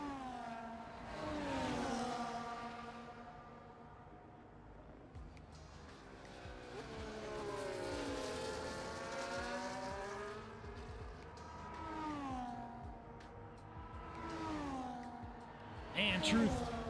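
Race cars in a racing video game, set on the Singapore circuit, rev, brake and accelerate with whining engine tones climbing and dropping through gears, while commentators talk over the action.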